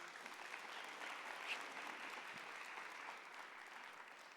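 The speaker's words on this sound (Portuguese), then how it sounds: "Aplauda a palavra de Deus." A church congregation applauds during a Catholic service, a soft, even wash of clapping heard from a distance, steady and faint throughout.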